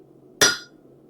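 A single hard hammer blow lands on hot steel while a raising hammer is forged, a sharp, loud metallic strike with a short ringing decay over a quiet hum.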